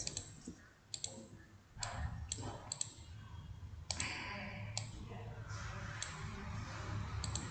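A computer mouse clicks several times in a Word document during a grade 10 computer practical, with sharp separate taps spread irregularly over a low room hum, close and faint.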